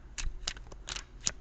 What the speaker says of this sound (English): I'm going to shuffle for just a minute more.